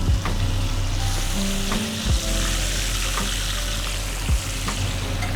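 Fish fillet frying skin-side down in a hot pan in a restaurant kitchen, a steady close, loud sizzle that runs the whole time, with a few soft knocks and scrapes of a utensil.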